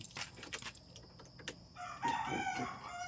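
A rooster crows once near the end, a rising, drawn-out call following some faint clinking and rustling at low volume.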